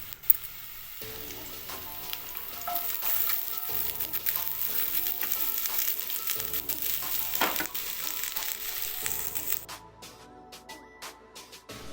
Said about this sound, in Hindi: इसको डालने के बाद भून जाने के बाद मैं इसमें अब डाल दूँगी प्याज।